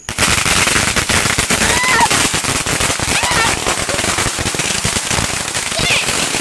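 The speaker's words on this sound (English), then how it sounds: "I got attacked by fireworks." Fourth of July fireworks and firecrackers going off close by, a dense, loud, continuous crackling barrage of rapid pops with voices shouting over it.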